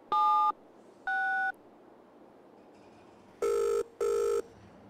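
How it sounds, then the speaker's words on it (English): In a video game, a telephone sounds out two tones after dialing, then two louder, lower ring bursts, each about half a second long and separated by clear silent gaps. "So let's get the phone and ring."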